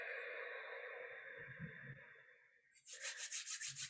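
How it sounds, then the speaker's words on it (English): Palms rub together to build warmth during a morning exercise session, giving a soft, close brushing friction. It ends in a faster run of rhythmic swishes that stands out against quiet room tone, with no talking. "Rubbing the hands together, creating a little heat."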